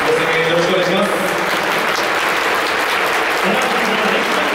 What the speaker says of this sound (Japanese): 皆さん、今一度大きな拍手をお送りください